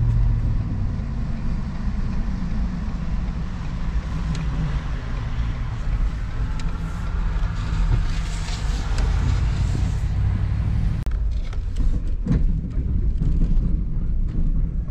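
A snow plow truck rolls into a large residential driveway, its engine a steady, loud low rumble throughout, with rattles and clunks building toward the end and no talking.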